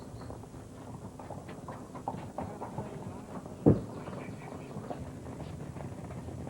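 Spanish horse hooves clip-clopping at an Andalusian horse breeding hacienda, a few soft, irregular hoof strikes with one sharper knock, faint and somewhat distant over quiet outdoor ambience.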